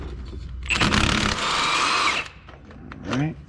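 An impact-style power tool spinning against a 19 mm nut on a Chrysler PT Cruiser lower ball joint, a loud whirring burst of about a second and a half, then quieter handling noise and a short voice.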